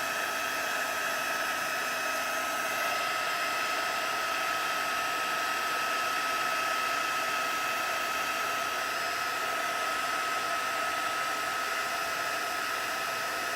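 A heat gun blows steadily over embossing powder on card, resting on foil-covered cardboard, a constant whooshing roar with an even hum that stays unchanged for over thirteen seconds.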